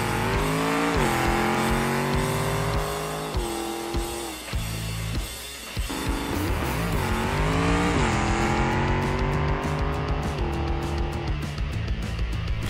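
Race car engine roaring at full throttle through a BeamNG video game drag race, pitch climbing in repeated gear-shift sweeps, loud and continuous with no talking; tires stay mostly quiet.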